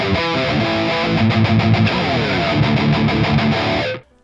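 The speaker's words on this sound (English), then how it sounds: "by adding the overdrive, it just adds that compression, and it just saturates the distortion very, very well" Distorted electric guitar through a Sonicake Matribox II multi-effects modeller on its N120 distortion with overdrive, a saturated, compressed chord riff played in rhythmic bursts, loud and close, before cutting off abruptly at the end.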